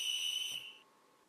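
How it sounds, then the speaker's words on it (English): A coach's sports whistle blown at a basketball practice, one sharp, loud, shrill blast held for about half a second, then cut off and fading into quiet. "Coach Blevlins blew his whistle."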